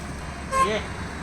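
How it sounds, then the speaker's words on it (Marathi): A car horn from an arriving vehicle gives one short toot in an outdoor setting near Panhala fort, heard briefly over a low background rumble of traffic. "चला गाडी आलेली आहे"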